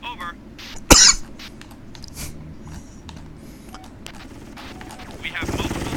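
A single loud, harsh cough bursts out near the start over quiet background noise. Muffled voices and clatter follow, and a rising hiss swells at the end.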